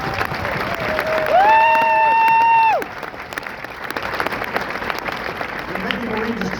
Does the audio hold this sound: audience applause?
yes